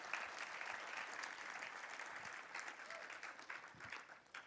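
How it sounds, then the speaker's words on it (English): Conference audience applauding at the close of a tech talk, a steady patter of many hands clapping, fairly faint and distant, thinning slightly toward the end. "Another big applause."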